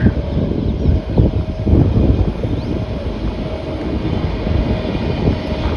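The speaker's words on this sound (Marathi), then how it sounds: "आपल्या डोंगरातली रेल्वे आली हो का" A steady low rumble and rattle of a local passenger train passing at a distance through hills, with wind buffeting the microphone throughout.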